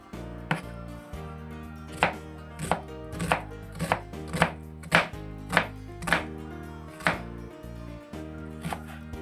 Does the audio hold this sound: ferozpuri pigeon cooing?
no